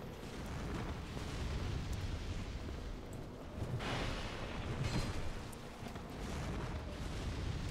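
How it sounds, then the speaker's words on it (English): A giant explosion strikes the player in Dark Souls 2, a dense, sustained roaring rumble with a few brighter surges, loud and continuous without any talking. "Giant explosion hits you."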